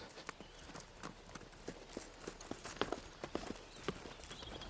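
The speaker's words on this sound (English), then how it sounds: "these horses and their ability to negotiate this incredible terrain" Horses' hooves clip-clopping over rugged mountain terrain, an irregular string of sharp, faint hoof strikes against a soft outdoor background.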